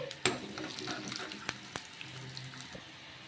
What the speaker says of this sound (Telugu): నూనె వేడెక్కిన తర్వాత కొన్ని శనగపప్పు కొన్ని మినప్పప్పు అయితే వేసుకోవాలి వేసుకొని వేయించుకోవాలి